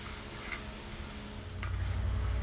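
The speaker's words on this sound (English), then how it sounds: "Now I'm going to melt in 1 stick of unsalted butter." A stick of unsalted butter melts in a pan with bacon bits and egg left in it, giving a soft, close sizzle with a couple of faint utensil taps that grows fuller toward the end.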